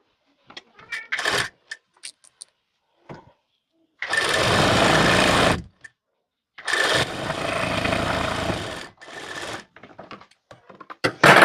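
A sewing machine stitches a strip onto a blouse with a half-inch margin, running in two long, steady bursts. Short clicks and handling taps fill the gaps between the runs, and all of it sounds close.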